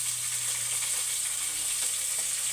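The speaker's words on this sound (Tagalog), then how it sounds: "Lagyan natin maluto itong sibuyas." Sliced onions fry in a pan for pork menudo, giving off a steady, close hiss of sizzling oil that stays even and unbroken throughout, with no talking.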